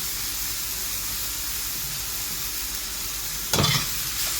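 Onions tossed into a hot pan with pork, a steady close sizzle and hiss throughout, broken near the end by a short burst of louder crackling and stirring.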